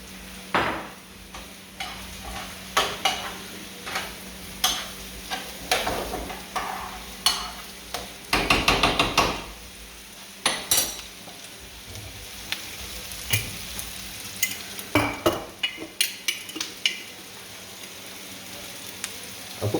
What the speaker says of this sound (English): We're going to cook all of these vegetables till they're nice and tender.